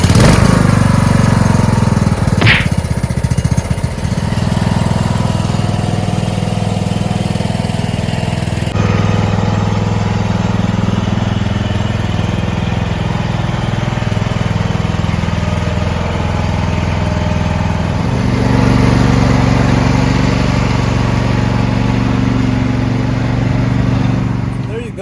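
A riding lawn mower's engine runs loud and steady close by, holding a constant droning rumble with slight shifts in pitch, and a brief higher whine near the start.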